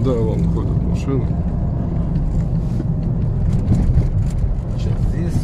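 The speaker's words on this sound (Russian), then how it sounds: "Транспорт ходит по мосту. По мосту едет транспорт?" Cars drive across a bridge near Kendika and Antonovka, a steady near traffic rumble running throughout beneath people talking in Russian.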